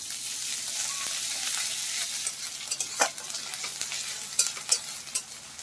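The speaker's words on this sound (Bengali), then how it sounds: "এবার আমি পেঁয়াজটাকে আর রসুন আদা পেঁয়াজ এগুলোকে সুন্দরভাবে আগে একটু ভেজে নেব।" Onion with garlic and ginger paste fries in a hot pan, a steady close hiss of sizzling oil broken by louder scrapes and taps as the mixture is stirred. No voices.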